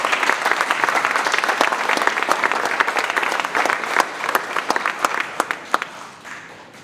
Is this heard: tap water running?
no